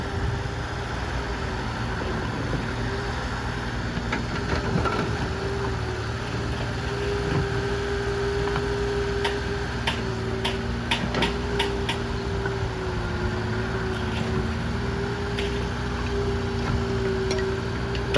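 A steady diesel engine drones at close range with a constant low hum, joined by faint metallic ticks and clanks.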